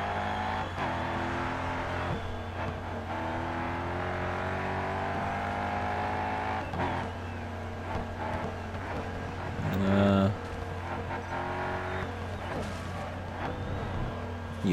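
Bugatti Veyron, the heaviest car in GRID Autosport, drives with a steady, loud engine drone throughout, with gear and rev shifts around the middle and a brief louder burst near the end.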